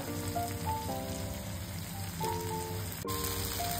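Cumin seeds frying in a spoonful of hot oil with other slit ingredients for Andhra punugulu, a steady close sizzle that continues throughout beneath tonal background music.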